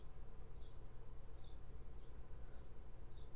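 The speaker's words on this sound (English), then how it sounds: "Excited bees" Excited bees in the video game Minecraft (FTB Ultimate server) buzzing softly in a continuous faint drone with small repeated chirps over a low background hum; no talking.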